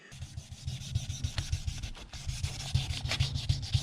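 Wet-sanding an Akrapovic motorcycle exhaust by hand with 1500 grit sandpaper, a steady close rhythmic rubbing and scraping with repeated strokes heard alone throughout.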